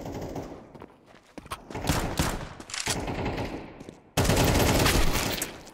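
Gunfire in an online shooter game: scattered shots build into heavy, sustained bursts that end in a loud, dense volley, close and punchy, with no clear talking.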